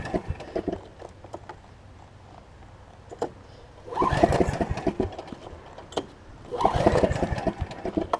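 A Snapper RER riding mower's engine cranks in two separate bursts, sputtering and turning over nearby between quieter pauses with faint ticking.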